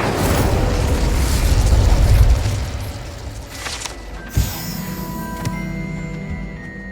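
A fire spell from the Hogwarts Legacy video game, a loud roaring burst that rumbles for about two seconds then fades, followed by a sharp pop and faint game chimes.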